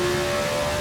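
Engine of a 1966 McLaren M2B with a 3.0 Ford V8 in Assetto Corsa, racing at classic Silverstone, a brief steady high drone with a sharp tonal whine, loud and close, no talking.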